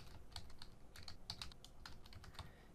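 Typing on a computer keyboard while entering Python library names, steady clusters of light key clicks in a quick uneven rhythm, close and clear with no voices.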